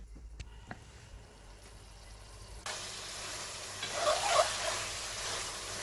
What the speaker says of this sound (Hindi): चिकन को हम अच्छी तरह से ऑयल के अंदर फ्राई करेंगे ताकि चिकन जो है वो हाफ़ ब्राउन हो जाए